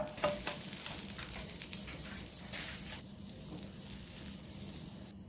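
A piece of butter melts in a hot pan over a low simmering flame, giving a steady close sizzle and crackle with a few stirring scrapes, no voices.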